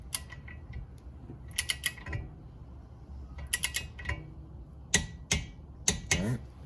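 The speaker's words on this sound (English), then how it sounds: "we're going to torque this to 22 foot-pounds, which isn't really much" A torque wrench tightens a ball joint nut on a Chevrolet Sonic to 22 foot-pounds, giving quiet bursts of ratcheting clicks and mechanical ticks with short pauses between strokes.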